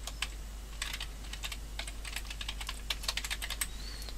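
Someone types on a computer keyboard, entering a name into a web form. Keys click in quick, irregular bursts close by in a quiet room.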